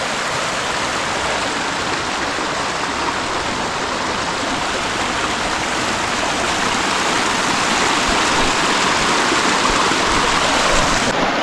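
A river in dense forest rushes and flows near a temple, a loud, steady broadband wash of water that holds without a break from start to finish.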